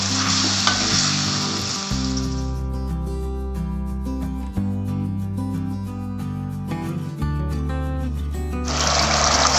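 Manchurian sauce bubbles and sizzles in a pan with a steady frying hiss. It is partly masked by background music with sustained tones, and the hiss swells loudly at the start and end.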